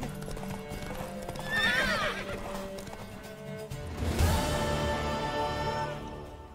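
Horse hooves clip-clop steadily while a horse neighs loudly twice, close by, over a busy soundtrack with music in the video game The Witcher 3.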